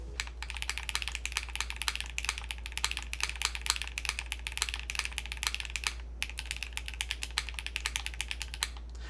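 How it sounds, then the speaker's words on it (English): Someone types on a 75% tri-mode mechanical keyboard with blue cheese switches on a palm plate. The keystrokes are close and rapid, with a crisp, slightly plasticky clack in an irregular stream, broken by a short pause near the sixth second. "let us see with the blue cheese switches on a palm plate."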